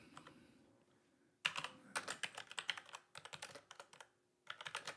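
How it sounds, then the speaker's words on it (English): Typing on a computer keyboard while entering an address in appraisal software: a quiet start, then several quick bursts of close, crisp keystrokes separated by brief pauses. "I'm going to just simply type in the address"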